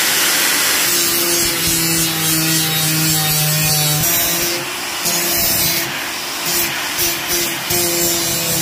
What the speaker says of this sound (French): on vient le clipser sur la meuleuse en X-Lock